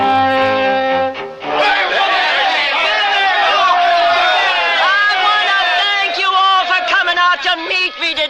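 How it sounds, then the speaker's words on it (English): A crowd gathered at a Denver train station in a 1979 radio drama, a dense, steady babble of many voices with overlapping calls and chatter that swells in after a brief musical opening and holds loud throughout. "Would you look at that crowd?"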